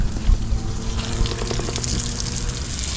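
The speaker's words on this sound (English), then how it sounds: "one of the things we need to do is wash the boat." Continuous gushing water splashes nearby as a boat is washed, a steady hose-like spray with faint clatter underneath.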